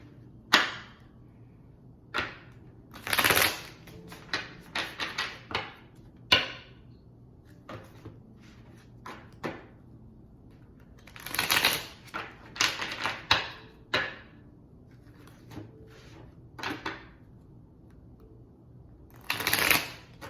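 A tarot card deck is shuffled in repeated quick riffling bursts, close and crisp, separated by short pauses and softer card handling, with no talking.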